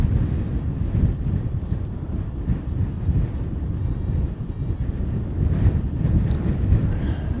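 Strong 27-knot wind buffets the microphone outdoors at Christchurch airport, a continuous loud low rumble with gusty surges throughout and no voices.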